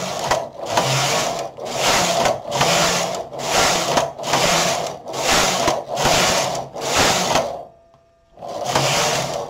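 A knitting machine carriage runs repeated rows, and each pass is a loud rasping, whirring slide lasting about a second. A short gap separates the passes, with one longer pause near the end before it moves again.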